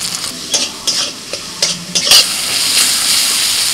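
Chopped tomato with salt, coriander, cumin, turmeric and a little red chilli powder fries in a pan, with several quick spatula scrapes at first, then an even, close sizzle with no talking.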